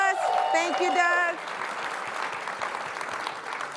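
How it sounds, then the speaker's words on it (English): A crowd applauds at a startup accelerator demo day. A voice talks over loud, dense clapping at first, and the applause carries on alone afterward, gradually thinning. "Give them a round of applause."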